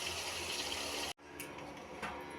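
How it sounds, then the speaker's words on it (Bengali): Broth poured from a vessel into a pan of potato and fish curry makes a steady, close, rushing liquid gush that stops abruptly midway, then gives way to softer splashing and pan sounds. "ঝোল দিয়ে দিলাম।"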